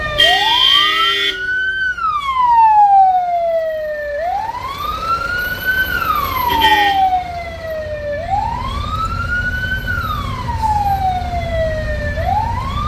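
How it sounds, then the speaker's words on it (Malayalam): An ambulance siren wails loudly and close by in a slow rising and falling sweep, repeating about three times over a low steady road rumble, with no talking. "കറക്റ്റ് സമയത്ത് ആംബുലൻസ് വന്നു"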